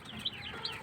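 Soft clucking from a jungle fowl and white leghorn crossbreed chicken with chicks, two brief sharper peeps rising over a steady low murmur, close by and with no talking.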